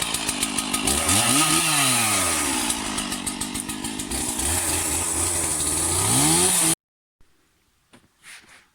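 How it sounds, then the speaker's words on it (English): A loud power sander whirs and drones for several seconds on a block of wood, its pitch rising and falling under load, then cuts off, leaving faint handling noises. "I just finished sanding up our block of wood"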